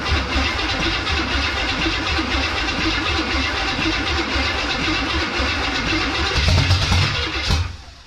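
A 1984 Chevy square body truck engine cranks steadily with a dense, rhythmic starter churn for several seconds, then briefly catches and fires near the end before dropping off; loud and close.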